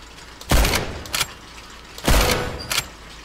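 Gunfire from a weak gun in Left 4 Dead 2, two loud bursts about a second and a half apart, each followed by a smaller trailing shot, close and punchy.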